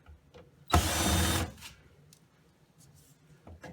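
A power tool whirs in one short, loud burst lasting under a second while removing screws from the front panel horn of a Seaga HY900 vending machine, followed by quiet handling noise.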